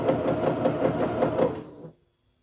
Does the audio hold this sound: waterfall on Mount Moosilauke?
no